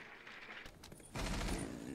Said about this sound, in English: More gunfire happening outside.